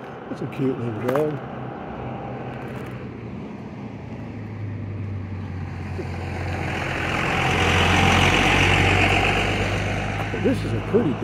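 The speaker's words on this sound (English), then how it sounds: "Diesels are the loudest damn cars ever made." A diesel engine rumbles on a quiet morning street in Capitan, New Mexico, a low steady drone that swells louder as it passes near, with someone talking over it and a dog nearby.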